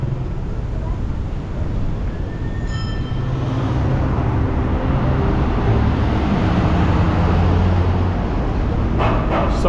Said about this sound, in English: let's just hop onto this, I don't know, railway system, MRT, whatever it might be